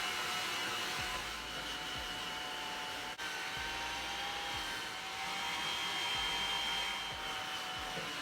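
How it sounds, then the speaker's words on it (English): Hair dryer fitted with a diffuser drying afro hair, a continuous even whooshing blow held at steady loudness throughout, with faint handling thumps beneath. "This kind of works similar to a diffuser, where it dries the hair from the inside out versus the outside in."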